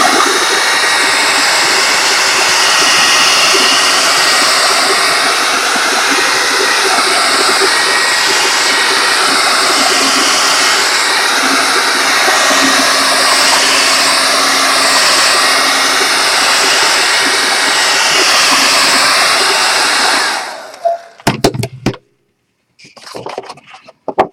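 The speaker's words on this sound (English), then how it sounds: "So I'm going to take my hair dryer. So cover your ears." A hair dryer blows loudly and steadily for about twenty seconds, then switches off, leaving a few faint clicks and rustles.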